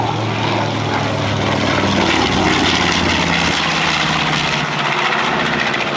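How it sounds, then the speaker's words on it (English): A loud, continuous roar of a B-25 Mitchell bomber's piston propeller engines with short exhaust stacks, a deep throbbing drone, sustained and close throughout. "it's a pretty noisy airplane, and one of the reasons it's noisy is because the exhaust stacks are so short"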